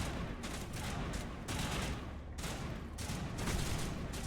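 Bursts of rapid gunfire in the Mass Effect video game crackle in dense volleys with short gaps between them, heard fairly faintly.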